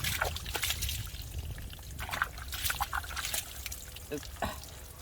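Water trickling and splashing while a giant water lily plant is rinsed, intermittent close pouring and dribbling sounds with a few soft drips.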